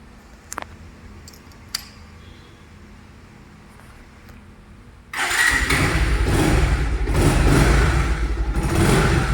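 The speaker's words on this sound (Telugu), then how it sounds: "చూడండి ఇంజిన్ బీటింగ్ కూడా ఎలా ఉందో" A Bajaj Pulsar 150 BS-4 motorcycle sits quietly with a couple of faint clicks, then its engine fires up midway and settles into a loud, steady, close idle.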